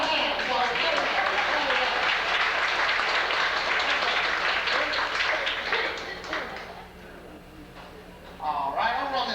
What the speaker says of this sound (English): Give him a hand, boys.